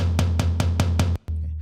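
A floor tom drum sample struck five times in a steady quick rhythm, deep and booming, followed by one more hit after a brief gap.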